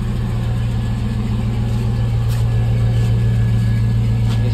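Pickup truck with a swapped-in 5.3 engine idles on its stock muffler and exhaust, a steady low rumble that stays close and even throughout with no speech.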